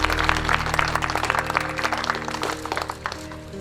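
Enthusiastic applause fills a school event honouring teachers, the brisk clapping of a crowd heard over a steady tonal hum from the sound system, tapering slightly toward the end.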